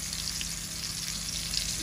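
Onions sizzle steadily in hot oil in a pan with chili, turmeric and salt mixed in, a continuous close frying hiss with no talk, part of cooking an eggplant and potato dish with hilsa fish.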